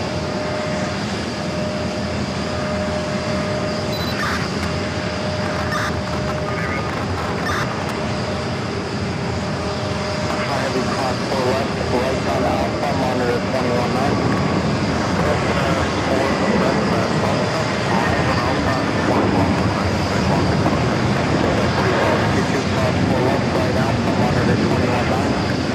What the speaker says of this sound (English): Got that Delta 757 at number 2 for takeoff on 4 left.